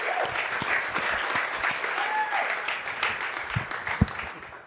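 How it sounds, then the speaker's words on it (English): Dense audience applause at a live restaurant podcast event in Omaha, a broad wash of clapping that holds steady before tapering off near the end, with faint voices mixed in. "Can we just give these guys a round of applause and thank them?"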